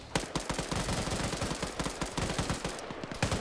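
Dense, rapid bursts of automatic gunfire from a milsim field exercise game, a sustained volley of sharp overlapping shots with close, loud reports.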